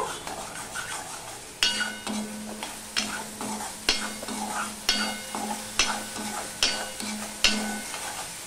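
Sugar melts and sizzles in a frying pan at the start of a Bengali omelette curry made without onion or garlic. A steady close sizzle runs throughout, broken by regular stirring scrapes about every second.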